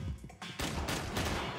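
AK rifle fire in the shooter game Max Payne 3, dense loud bursts of automatic shots filling the short moment with little pause.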